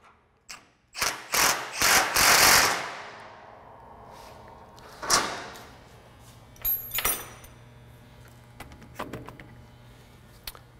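A hand ratchet loosens a 3/8 bolt while a SnowDogg V-plow is being assembled, giving several quick bursts of loud clicking and then a few sparser clicks and metallic clinks as the tool slows.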